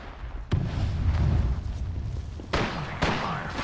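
Gunfire and explosions in an Apex Legends-style battle video game, several sharp booming bursts over continuous rumbling low noise, loud and close, with a cluster of shots in the second half.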